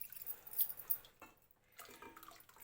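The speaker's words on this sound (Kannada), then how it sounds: "ಇದಕ್ಕೇನೆ ಸ್ವಲ್ಪ ನೀರು ಹಾಕ್ತಾಯಿದ್ದೀನಿ." Water is poured into a buttermilk tambuli seasoned with pepper, giving faint, close splashing and trickling in short bursts separated by a near-silent pause, with no talk.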